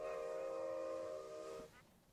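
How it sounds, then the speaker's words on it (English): A train in the video game Minecraft sounds a steady, whistle-like horn tone for over a second and a half, then it cuts off, leaving faint background. "we have a working train"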